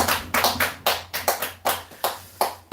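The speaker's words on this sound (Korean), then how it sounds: "박수 한번 쳐주세요" A church audience claps in a brisk, steady rhythm during a lecture on Bible memorization, the sharp claps ringing out close and loud for a few seconds with no talk over them.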